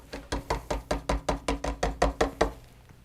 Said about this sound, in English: This Osmo Poly X oil can separate, and so I'm going to give it a good mix here